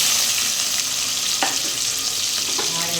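Onions frying in hot oil with cloves and cinnamon sticks for a fried-piece biryani made in a pressure cooker, giving a steady, close sizzle throughout with a few brief stirring scrapes and no talking.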